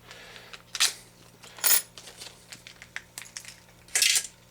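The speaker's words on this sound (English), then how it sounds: "We're going to go ahead and open up the nuts and bolts and place them into our parts tray." Small metal nuts and bolts for an HPI Baja SS radio-control car are poured into a parts tray, making a few sharp, close metallic clatters separated by light clicks and rattles in a quiet room.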